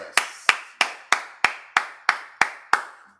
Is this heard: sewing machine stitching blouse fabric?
no